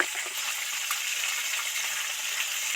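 Pieces of katla fish deep-frying in hot oil, a loud, steady sizzle with a dense hiss that never lets up, heard close with no talk.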